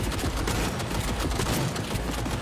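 Dense, continuous gunfire from the game Cyberpunk 2077, a steady rattling barrage of shots filling the whole stretch with no pause and no voices.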